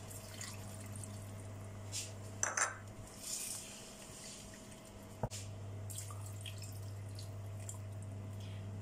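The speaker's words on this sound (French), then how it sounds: "Et je vais rajouter de l'eau." Water is poured into a pot of sausages and pieces of meat for French cabbage and sausage, giving a short splashing pour, a few clinks of metal and dishes, and drips over a steady low hum.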